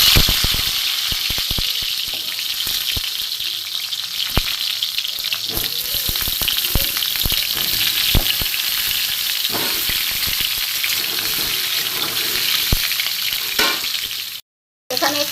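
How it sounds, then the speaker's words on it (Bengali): Cut potatoes frying in mustard oil in a wok, a loud steady sizzle close up, broken by occasional clicks and scrapes from stirring, with no talking. "এখানে আমার মাংসের আলুগুলো কাটা আছে, এইগুলো আমি একটুখানি ভেজে নেব।"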